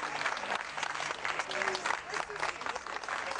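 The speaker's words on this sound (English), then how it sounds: "After the polite applause" Polite audience applause after a screening or performance, a continuous, moderately loud patter of many hands lasting a few seconds, with faint murmuring mixed in.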